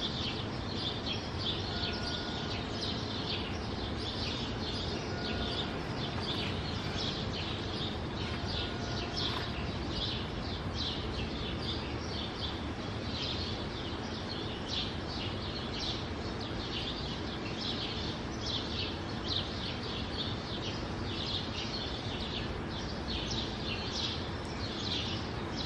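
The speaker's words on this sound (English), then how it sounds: "Listen to the birds." Small birds chirp and twitter steadily in the distance over a constant outdoor hiss, their high calls repeating throughout without pause.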